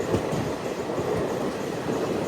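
The Kacheguda Express rumbles along near Yakutpura station with a steady, loud roar of wheels on rails and faint rhythmic clatter, heard from inside the moving train with no talk.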